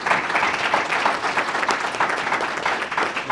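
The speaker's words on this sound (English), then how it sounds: "If you give them a round of applause." Audience at a community engagement symposium applauding the panelists, dense steady clapping throughout, close and loud, lasting the full few seconds.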